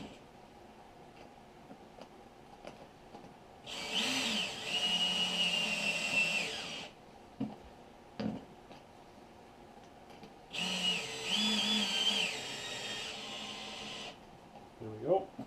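A power drill whines in two sustained bursts, each a few seconds long, as it pulls metal studs into the rubber of an ATV tire, with quiet pauses and small clicks between runs.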